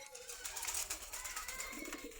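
Racing pigeons cooing at a bird market in Meradia Bazaar, Khilgaon, Dhaka, soft repeated coos close by over a busy background hiss.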